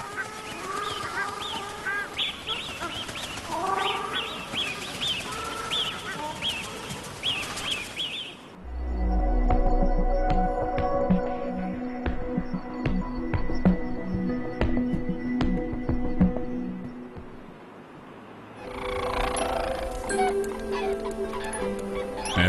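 Wild duck parents with their ducklings in Hexigten, northern China, give repeated quacking and honking calls in the first part, which are then layered with other continuous sounds before the calls return near the end.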